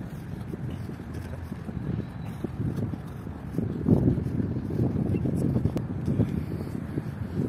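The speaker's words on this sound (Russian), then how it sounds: "это боковой ветер, но тем не менее" Steady crosswind buffeting the microphone with low rumbling gusts that swell louder midway, continuous throughout.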